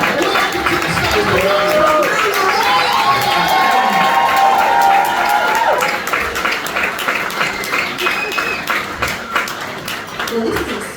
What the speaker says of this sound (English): Start to clap, please. Start to cheer.